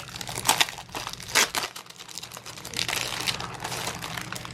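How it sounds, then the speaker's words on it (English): Plastic wrapping crinkles and crumples as it is pulled off a Midori traveler's notebook, with a few sharp close bursts followed by steadier rustling. "I should probably take it all out of the plastic."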